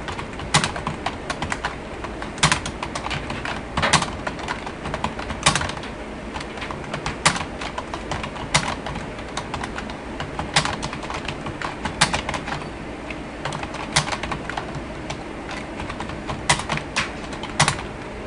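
Computer keyboard typing on a PC during Bangla PowerPoint 2007 text entry: steady irregular clicking of keys throughout, close and clear, with no speech over it.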